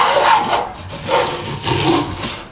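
A Stanley hand plane cuts a groove in a wooden board in three steady rasping strokes, each a loud, close scrape that swells and fades, with no talking.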